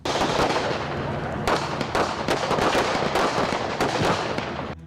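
Rapid bursts of sharp police gunshots crack in quick succession on a street, loud and echoing, a volley of about ten shots going on for several seconds.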